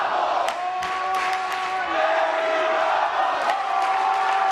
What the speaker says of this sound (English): you hear the crowd chanting Eddie Bravo.